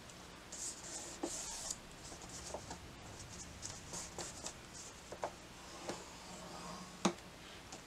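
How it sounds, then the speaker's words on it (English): A paper sheet is scored on a scoreboard for a paper suitcase project, giving quiet ticks, light scratches and soft tapping clicks at close range. One sharper click stands out near the end. "we're going to add two more score lines, and those are going to be at 5 inches."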